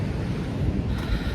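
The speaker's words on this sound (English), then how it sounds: "Those waves are huge, if you can see," Ocean surf pounding steadily at a beach, large waves breaking about a hundred yards offshore, with a continuous roaring wash and some wind buffeting the microphone.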